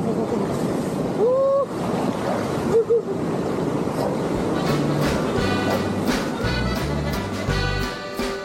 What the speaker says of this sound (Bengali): রেলি নদীতে এইভাবে স্নান করছি